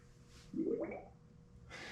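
King Shock King Kong 4.0 shock absorber being bled, giving a short wet gurgling burp of trapped air, close and fairly quiet, with a faint hiss following.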